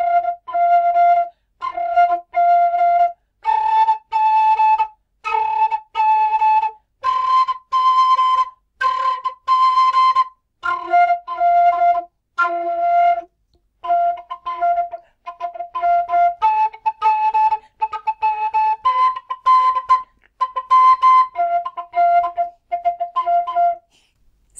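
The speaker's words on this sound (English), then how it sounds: "actually play percussive sounds through your whistle" Tin whistle played percussively in a beatboxing style, short rhythmic pulses and breathy chopped notes following a chord progression, steady and close throughout with no talking.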